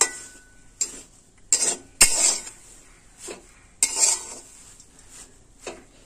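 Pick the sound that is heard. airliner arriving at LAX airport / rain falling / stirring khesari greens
stirring khesari greens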